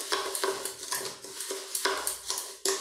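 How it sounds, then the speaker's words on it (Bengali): A spoon stirs coffee, sugar and milk together in a cup, scraping and clinking in a steady rhythm of about a dozen close, crisp strokes with no talk over it. "এখন কফি, চিনি আর এই দুধটা আমি খুব ভালোভাবে মিশিয়ে নেব"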